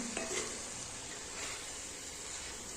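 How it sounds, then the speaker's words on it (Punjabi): Sangri vegetable being mixed in a frying pan, a steady low sizzle and hiss with soft stirring scrapes running throughout at an even level. "ਫਿਰ ਹੁਣ ਆਪਾਂ ਇਹਨਾਂ ਸਾਰਿਆਂ ਨੂੰ ਚੰਗੀ ਤਰ੍ਹਾਂ ਮਿਕਸ ਕਰ ਲਵਾਂਗੇ ਮਿਕਸ ਕਰ ਦੇਣਾ"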